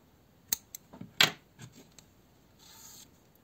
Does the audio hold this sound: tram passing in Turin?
no